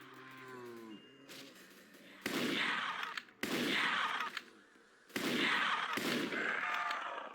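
Shotgun blasts in the video game Project Lazarus: three loud, close booming shots spaced about a second or two apart, each with a long rumbling tail, after a brief tonal game sound at the start.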